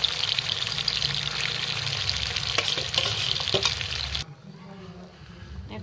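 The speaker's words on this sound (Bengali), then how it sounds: "প্রথমে খালি তেলে ডালটা ফ্রাই করব" Lentils fry in hot oil and are stirred, giving a close, hissing sizzle with scraping stir strokes. The sizzle drops abruptly to a quieter background near the end.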